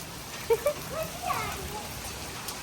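Steady rain falls in a continuous broadband hiss, fairly loud and even, with a few faint voice-like sounds briefly rising over it early on.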